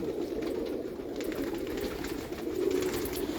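Pigeons coo steadily on a rooftop in Sialkot, a continuous low murmuring chorus from a flock kept by a pigeon fancier, close and even in level throughout.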